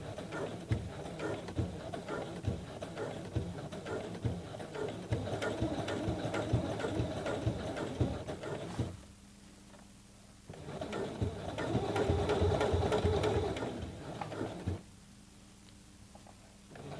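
A Brother CE1100PRW sewing machine stitches a thick jeans hem in two loud, steady bursts of rapid mechanical chatter, each several seconds long, separated by a brief quieter pause, with no talking.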